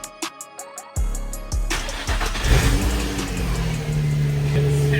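A rebuilt Nissan project car engine cranks with a few rapid starter clicks, catches and fires loud and close, then settles into a smooth steady idle with no voices.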